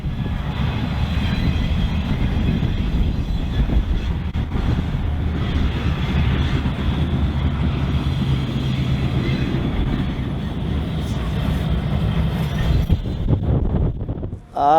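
A rebuilt EMD diesel locomotive named the Admiral, running on the Gaspésie Railway, holds a loud, steady low rumble with a hissy, wind-buffeted edge that goes on without a break before a brief dip at the end.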